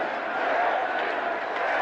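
A large crowd of protesters in Moscow opposing Yeltsin's policies, a dense roar of many voices shouting and chanting together at steady loudness, with no single voice standing out.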